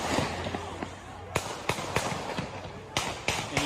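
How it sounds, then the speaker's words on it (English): Sharp gunshots from a played recording of a shootout, with returning fire: a string of loud broadband cracks in irregular bursts, about eight shots, over a noisy background with muffled talk. "and you hear those gunshots?"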